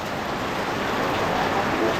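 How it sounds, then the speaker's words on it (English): Torrential rain from a tropical storm during flooding in Naga City, Camarines Sur, Philippines: a loud, dense, unbroken hiss of downpour close by, with no gaps. "This quite bad flooding."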